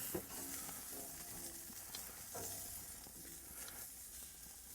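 Shrimp and asparagus sizzle steadily on a grill, a continuous hissing fry with occasional small pops and crackles, close and even in level with no talking.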